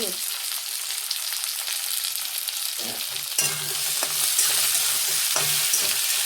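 Onions and capsicum fry in a pan with a close, steady sizzle, interrupted by scraping stirs and brief clatters of the spoon, and the hiss grows a little louder toward the end.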